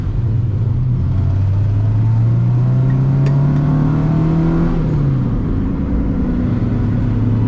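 A Honda Civic EK9 engine heard from inside while driving, a loud steady drone whose pitch climbs under acceleration, then drops sharply at a gear change before pulling again, with no talk.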